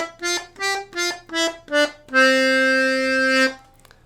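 Piano accordion plays a staccato melody of five short, clipped reed notes with clear gaps between them, then one long held note, close and loud with no voices.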